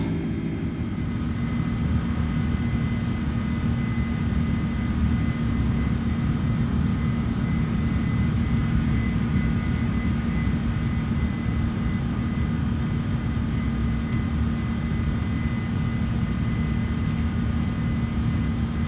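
A light aircraft's engine in Microsoft Flight Simulator 2024 drones steadily after takeoff, a constant low propeller hum with a sustained mid tone, loud and unchanging, no voices.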